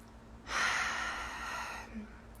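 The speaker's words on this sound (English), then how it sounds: "let's take a deep breath" A single deep breath drawn in close to the microphone, a soft airy inhale swelling quickly then easing out over about a second and a half in a quiet room.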